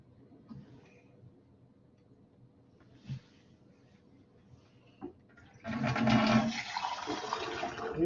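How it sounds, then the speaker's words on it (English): Water from a tap running into lab beakers as they are reset and cooled after a heat experiment, starting abruptly as a loud steady rush after quiet handling noises. "we can just run some water in it and cool it down"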